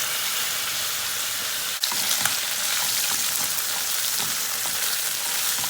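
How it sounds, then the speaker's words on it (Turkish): Chicken pieces fry over high heat in a pan until caramelized, a loud continuous hiss and sizzle with crackling pops, briefly interrupted by one sharp clatter as the pieces are stirred. "Yüksek ateşte artık bunu çevre çevre bir ne yapacağız? Kızartacağız."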